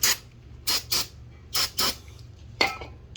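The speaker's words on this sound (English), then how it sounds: "I'm going to just spray it down with some brake cleaner" Several short hissing bursts of brake cleaner spray, about six in a row with brief pauses between, close and moderately loud over a faint low hum.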